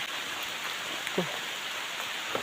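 Steady rain falls outdoors during a long walk, a dense even hiss that fills the whole stretch, with a few faint drips or distant voices barely rising above it.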